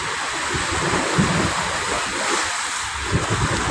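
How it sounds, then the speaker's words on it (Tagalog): Big sea waves crash and wash continuously against the Manila Bay shore, a loud broadband roar with rumbling surges and gusty wind. "Tignan nyo naman po, lalaki ng alon na yan."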